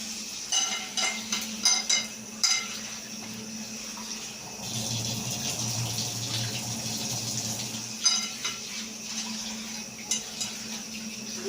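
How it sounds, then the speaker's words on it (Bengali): Masoor lentils are washed by hand in a pot of water, with splashing, swirling and light clinks of the vessel, then a steadier stretch of pouring and sloshing in the middle before more stirring. "মুসুরি ডাল করবো। এটা ধুতে হবে।"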